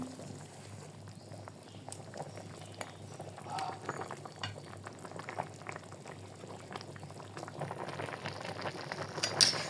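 Fish curry with eggplant, potato and okra bubbling in broth in a pot, a soft continuous simmer of small bubbles and pops, fairly close and quiet, without talk.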